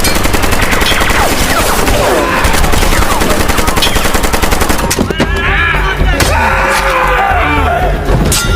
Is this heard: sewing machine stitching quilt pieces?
no